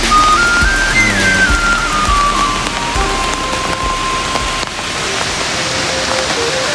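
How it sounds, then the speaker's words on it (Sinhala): Rain falling at Garandi Gini Ella waterfall in Sri Lanka gives a loud, dense, continuous hiss of drops and rushing water that fills the whole stretch without pause. "අද මේ වැස්ස ඔය පොඩි කාලගුණේ පොඩි අවුලක් තියෙන හින්දා"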